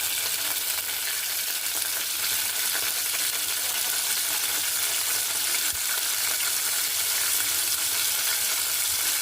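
Tamarind leaves frying in oil for a chutney, a continuous close, even sizzle and crackle with faint stirring, no talking.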